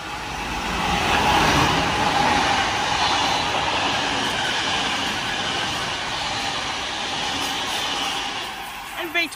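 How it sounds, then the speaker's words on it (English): V set passenger train from 1977 with four carriages arriving at Seven Hills station, a steady broad rumble and rail roar holding close and loud throughout, with a brief clank near the end. "Guys, I'll see you when the next train arrives."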